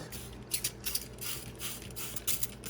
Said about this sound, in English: what I do is I will mist right over on that side where his heat pad is